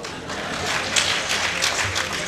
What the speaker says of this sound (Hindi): तालियों की गड़गड़ाहट सुनती रहे